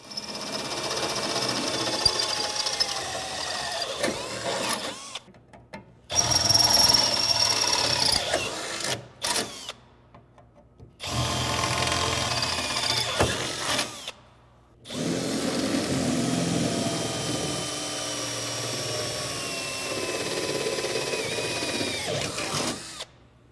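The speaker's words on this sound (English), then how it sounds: "Now that we've drilled our holes, we're going to go ahead and clean up any burrs that are around." A power drill enlarges holes to 3/8 inch in the bed of a 2005–2023 Toyota Tacoma, whining through metal in several long bursts separated by short pauses, close and loud with no voices.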